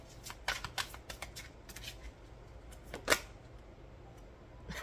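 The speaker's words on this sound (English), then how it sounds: "We'll shuffle." Tarot cards being shuffled by hand in a quiet room, a run of soft riffling flutters and papery slaps with one sharper burst of riffling near the middle, close and fairly faint with no talking.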